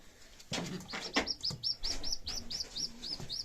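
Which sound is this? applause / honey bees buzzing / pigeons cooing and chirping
pigeons cooing and chirping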